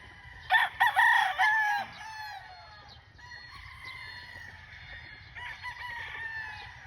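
A gamefowl rooster crows loudly and close by on a farm, one strong full crow followed by softer clucking and calls from nearby fowl.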